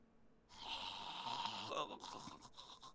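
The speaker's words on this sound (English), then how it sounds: "Do you hear my pirate snoring in the bed?" A pirate character snores while lying in bed in the video game Sea of Thieves, a steady breathy snore carrying through a few seconds with a faint voice murmuring underneath.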